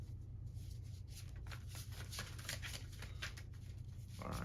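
A deck of tarot cards being shuffled, a soft, quiet riffling flutter of cards that continues in short bursts with no talking over it.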